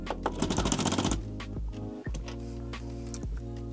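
Electric Vanguard airsoft speedloader pressed to load BBs, a dense burst of rapid mechanical clicking and rattling for about a second, then a steady motor whir with a few sharp ticks.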